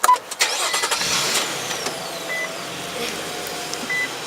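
A 2013 Infiniti JX35 engine started with the push button, a brief cranking burst at the start giving way to a steady idle, with faint chimes and tones from the cabin over it.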